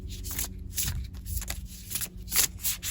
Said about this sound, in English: Please don't judge my shuffling.